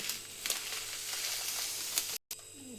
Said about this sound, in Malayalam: അപ്പോൾ നമ്മുടെ പാല് തിളച്ച് വരുന്നുണ്ട്.